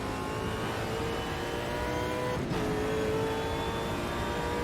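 Super V8 race car engine in the Automobilista 2 racing game, a continuous loud high-revving drone with a sharp gear-shift dip midway, then climbing revs again, alone without talk.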